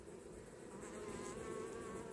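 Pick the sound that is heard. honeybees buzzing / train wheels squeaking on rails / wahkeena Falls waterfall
honeybees buzzing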